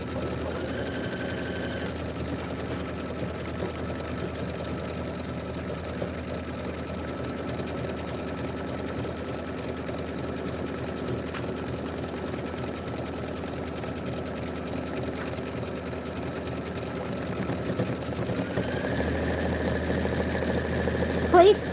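An embroidery sewing machine stitches the sun tack-down line on felt, running as a steady, continuous mechanical whir with a faint hum for the whole stretch and growing slightly louder near the end; a voice is faintly present beneath it.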